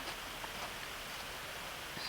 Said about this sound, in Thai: พอดีวันนี้ฝนตกนะคะ